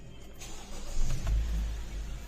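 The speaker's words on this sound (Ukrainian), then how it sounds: "Запускаємо двигун." A 2016 Honda CR-V engine, just after a direct-injection injector cleaning, cranks briefly and catches, settling into a low rumbling idle close to the microphone.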